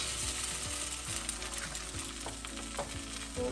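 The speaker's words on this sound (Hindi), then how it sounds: "अभी हम साइड में थोड़ा सा स्पेस बना लेते हैं, एक स्क्रैम्बल बनाएंगे।" Scrambled egg frying in a non-stick wok without oil for pad thai, with a steady loud sizzle and repeated scraping strokes of a spatula stirring the egg, close up.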